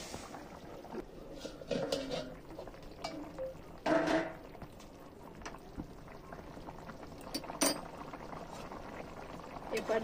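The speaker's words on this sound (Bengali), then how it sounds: "এবারে এর মধ্যে এখন ভেজে রাখা আলুগুলো দিয়ে দিচ্ছে।" Fried potatoes tipped into a pot of simmering mutton curry cooked with yogurt, soft bubbling and liquid movement with a few pot and utensil clinks, fairly quiet, with a voice talking over parts of it.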